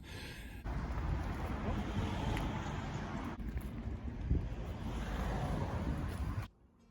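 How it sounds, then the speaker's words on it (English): Strong gale-force wind blows by the sea in Norfolk, a loud, steady roar buffeting the microphone for several seconds before it cuts off abruptly. "Wow, it's like blowing a gale."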